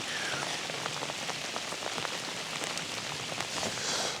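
Heavy rain pours onto a river at dusk on the River Wye during a barbel fishing trip, a dense, steady hiss of countless drops pattering on water and nearby surfaces, moderately quiet and continuous with no talking.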